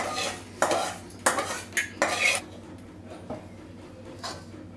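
A thick dough mixture is stirred in a large pan, heard as several loud scraping and clanking strokes of a utensil against metal, close up, then fading to quieter scrapes, with no talking.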